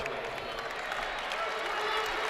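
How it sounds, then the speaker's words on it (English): A high school boys' basketball crowd applauds as player Drew Litweiler leaves the court, producing a steady wash of clapping and crowd noise that holds at moderate loudness throughout. "He's getting a big hand from the crowd here tonight."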